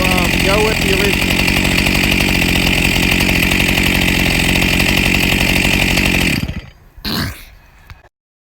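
A rebuilt Stihl MS361 chainsaw runs loud and steady at high revs for about six seconds, then cuts out. One short rev flares briefly before silence.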